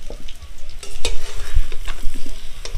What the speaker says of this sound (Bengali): আলুগুলো ভাজা হয়ে গেছে, বেশ লাল লাল করে আমি ভেজে নিয়েছি।